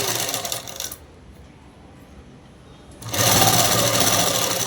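A sewing machine stitches the folded edge of dress fabric in fast, steady bursts, loud and close, running at the start, pausing for about two seconds, then running again.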